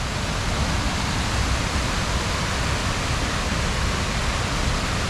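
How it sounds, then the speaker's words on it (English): Water in a small creek runs steadily through a gorge, a dense, even rushing wash that holds constant and close throughout with no voices. "that's a pretty little creek there"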